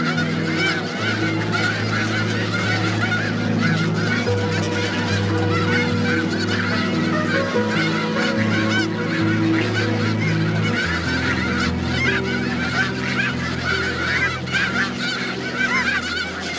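A large flock of snow geese honking continuously, dense overlapping calls close by and loud throughout, with no pauses.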